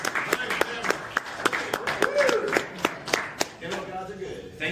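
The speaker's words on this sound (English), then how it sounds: "I clap for that." Hand clapping in sharp, slightly irregular bursts, close and loud, with a voice talking in between and over the claps.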